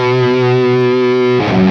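A distorted electric guitar lead tone with its input dynamics setting raised to 2.5 rings as one loud, sustained note for about a second and a half, then shifts to a new pitch near the end.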